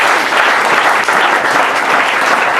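A church congregation applauding during a Sunday service, loud dense clapping from many people that fills the whole moment without pause, close and full.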